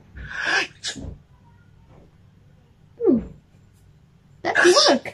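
Two sharp sneezes, one at the start and one at the end, separated by quiet and a brief vocal sound in between.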